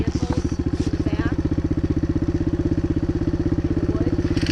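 A dirt bike idles steadily in the woods, its engine putting out an even, rapid low thrum that runs unbroken from start to end, fairly close, with a few faint background noises over it.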